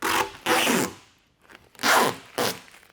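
Vinyl wrap film being peeled off a Cybertruck body panel, a sticky ripping and tearing sound in several separate pulls of under half a second each, close and fairly loud, with quiet pauses between them.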